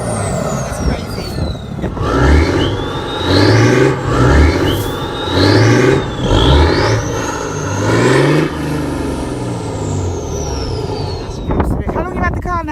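Loud, throaty revving from a BMW X6 straight-through exhaust in repeated bursts, the engine climbing and dropping in pitch about four times before settling to idle.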